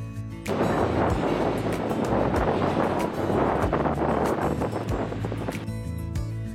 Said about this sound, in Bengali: আর তার সাথে আছে দীঘার এই সমুদ্রের উত্তাল ঢেউয়ের